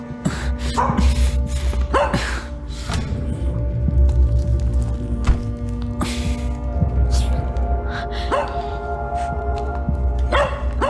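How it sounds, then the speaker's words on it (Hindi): A puppy barks in short, sharp yips, a few scattered barks over a steady low hum in the background. "ओह, ये पिल्ला कुछ बता रहा है।"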